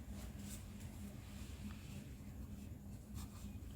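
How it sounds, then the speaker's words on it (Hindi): Pen writing by hand on paper while working a maths problem, a soft steady scratching under a low hum, close and quiet, with no talking. "तो यहाँ हम लिखेंगे सोहन बाय"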